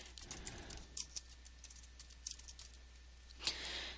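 Someone types an entry into an online account form on a computer keyboard, scattered soft key clicks in short bursts with pauses between them, quiet and close with no speech.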